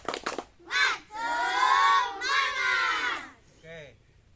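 Elementary schoolchildren in a classroom shout the rhythmic 'tepuk semangat' spirit chant together in several loud, high-pitched bursts, with short breaks between phrases.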